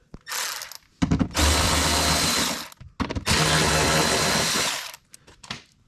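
A power tool with an 8mm socket spinning out two bolts on a dually truck during a mud flap install, heard as two sustained whirring runs of over a second each after a short first burst, loud and close.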